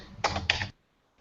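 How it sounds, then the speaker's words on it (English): Typing on a computer keyboard picked up during an online call, two quick close bursts of key clatter followed by near silence. "he was typing all the time, and we could hear the typing all the time"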